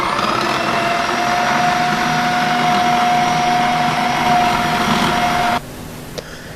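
An electric food mixer whirs steadily while beating cake batter with orange, a loud continuous motor hum with a faint whine that cuts off abruptly near the end, leaving quiet room tone.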